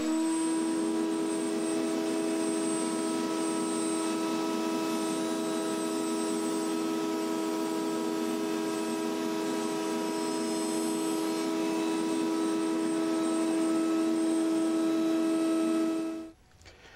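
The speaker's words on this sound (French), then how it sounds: "J'ai installé un fer à rainurer sur ma table à toupie" A router table fitted with a slot cutter cuts a 12 mm groove in wood for a tongue joint: a loud, steady high motor whine runs near and unbroken for about sixteen seconds, then stops abruptly.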